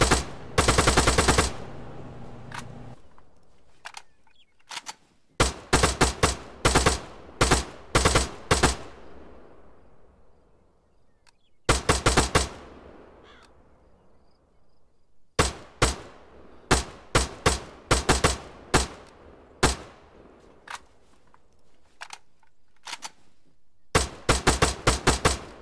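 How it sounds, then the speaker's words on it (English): An AK-47 rifle fired in Arma 3 on Tanoa, with loud sharp shots in rapid full-auto bursts and quick single-shot strings, separated by echoing decays and short silences, with no talk. "Alright, let's try the AK-47 now."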